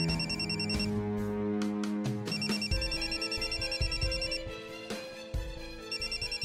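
A telephone rings repeatedly indoors, its electronic bell-like tone pulsing in bursts over a steady background of music, with no talking.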